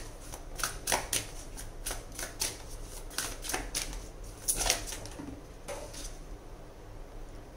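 A deck of tarot cards is shuffled over and over by hand, the crisp riffling bursts close and rhythmic, each followed by a short pause, with no talking.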